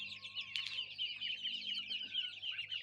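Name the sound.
chickens clucking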